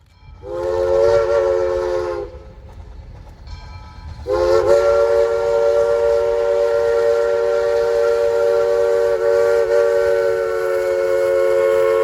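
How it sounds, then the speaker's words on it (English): A loud Lanergan three-chime whistle on US Sugar steam locomotive 148 blows twice, a short blast then a long sustained one, chord tones steady and close. "sound of a Lanergan 3-chime whistle indicates I'm back down chasing US sugar trains again"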